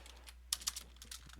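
Keys on a computer keyboard are tapped in a short, uneven burst of sharp clicks, close and fairly quiet, with no talking over them.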